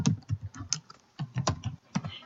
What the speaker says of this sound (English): I'm typing with the style already there.